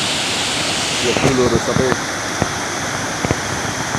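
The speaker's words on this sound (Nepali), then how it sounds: "यो रेसी खोला हो। बेसी पानी परेको कारणले गर्दाखेरि" The Reshi Khola, a river swollen after heavy rain, rushes as a steady broadband roar throughout, with someone speaking briefly over it and a few sharp knocks near the end.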